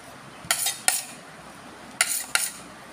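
Knife and utensil clinks against a plate or bowl while halved watermelon is thinned out to free its seeds: four sharp, close metallic taps in two pairs, with quiet gaps between.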